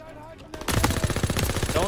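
Waffe 28 machine gun firing in a WW2 first-person shooter campaign, with a rapid sustained burst of loud, dense automatic fire that starts abruptly after a brief quiet moment and continues to the end.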